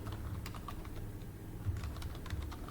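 Quiet, rapid typing on a computer keyboard, a steady stream of soft key clicks heard alone and close by.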